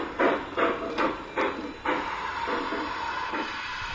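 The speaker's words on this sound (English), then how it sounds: "we have the ability to run this particular train non-stop through a dog bone loop which extends some 80 feet in length" A G-scale model train runs around an 80-foot dog bone loop on a large outdoor layout, giving a rhythmic series of clacking wheel beats over rail joints against a steady hiss, moderately near, with no voices.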